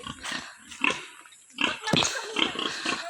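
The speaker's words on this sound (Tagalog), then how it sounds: "Tingnan yung baboy ng tatay ko." A large farm pig grunts and snorts close by in a string of short rough bursts with brief gaps, fairly loud and without talk over it.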